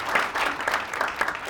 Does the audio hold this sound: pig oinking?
no